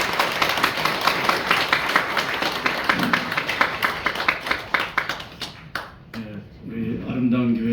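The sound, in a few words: church congregation applauding to welcome the speaker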